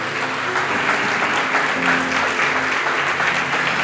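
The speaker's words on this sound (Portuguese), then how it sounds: "Eu quero que vocês deem uma salva de palmas." A church congregation claps in a loud, dense, unbroken round of applause, with a few voices and a faint musical tone running beneath the clapping.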